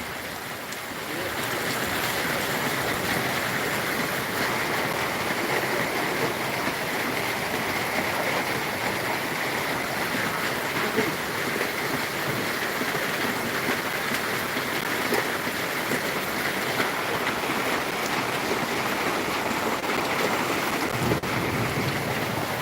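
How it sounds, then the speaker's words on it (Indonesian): Floodwater rushes steadily through a flooded residential housing complex in Palembang, a dense, continuous roar of moving water with no pauses, loud and close throughout. "Deras banget airnya ya."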